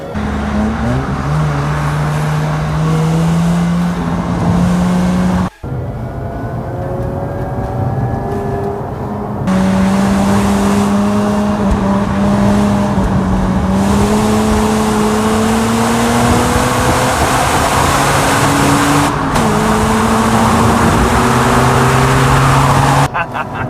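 Mazda RX8 driving hard around a corner, the engine loud and close, pitch climbing and holding through the bend with a brief drop during a gear shift before pulling again.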